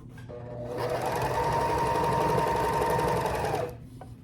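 A sewing machine hemming silk edges whirs up, stitches steadily for about three seconds, then winds down, close and alone.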